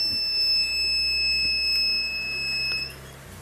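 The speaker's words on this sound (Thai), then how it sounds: "เปิดแล้วมีเสียงอาลามนะครับ" A Smart power inverter, an off-grid unit that won't start properly, sounds a steady electronic alarm tone right after being switched on, a sustained high beep held for about three seconds over a low hum before cutting off.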